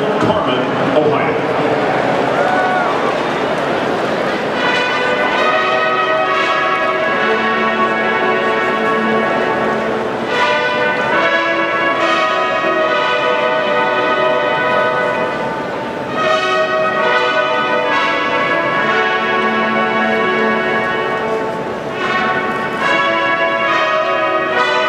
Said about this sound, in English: sound of the campus chime, introducing the Ohio State University alma mater, Carmen, Ohio.